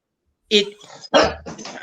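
A pet dog gives two or three loud, close barks in quick succession after a moment of silence, at a home New Year's Eve gathering.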